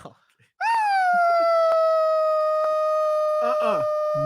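On a sports radio show, a voice imitates a whale call with one long, loud, sustained wailing tone that dips slightly in pitch and holds steady, ending in a wavering moan.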